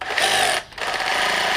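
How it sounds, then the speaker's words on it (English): A DeWalt DCH274 cordless SDS drill runs in hammer drill mode with a loud, close, buzzing rattle, cutting out for a split second before starting up again. "pull the trigger when I put it on hammer drill mode"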